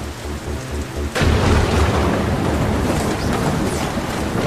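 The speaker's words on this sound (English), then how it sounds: "Where the hell did this storm come from?" Heavy storm rain pours steadily at sea, with a deep thunder rumble swelling in after a quieter opening second and holding loud and dense to the end.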